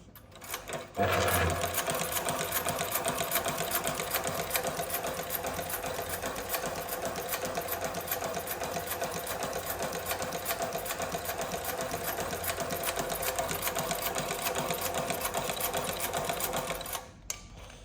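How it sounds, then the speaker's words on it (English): A Global SR9929 shoe stitching machine with a 360-degree cylinder arm sews with thick thread, a fast, steady, even mechanical chatter that runs unbroken for about sixteen seconds before stopping, near and clear. "And now I'll show you how machine works. It's 360. You can sew in any direction."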